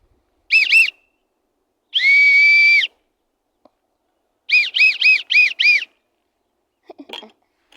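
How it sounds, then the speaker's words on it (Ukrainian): Referee's whistle from a football referee kit, sounding as a short double toot, one long sustained blast, then a rapid series of five sharp chirps, close and loud with no talk. "Свисток в мене є"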